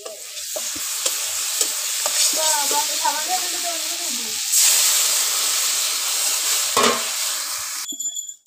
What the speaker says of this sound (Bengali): তো ঝুলটা ভালো করে ফুটছে